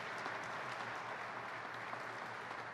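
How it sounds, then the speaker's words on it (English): An audience at an event with New York's governor announcing park funding claps in a steady, unbroken ovation, fairly distant and soft, with faint crowd murmur underneath. "So let's give him another round of applause in advance."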